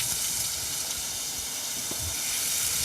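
Beef and onions for bulgogi sizzle steadily in a hot pan, a continuous broadband hiss with no talking.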